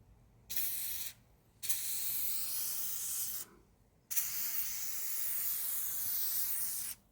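Aerosol lubricant sprayed onto a garage door drive belt in three hissing bursts, a short one, then two longer ones, each stopping abruptly with quiet gaps between.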